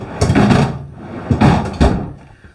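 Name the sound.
Insignia French door style refrigerator doors in an RV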